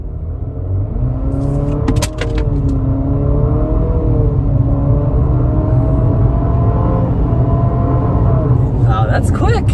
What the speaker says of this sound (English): All right, taking off in the QX55.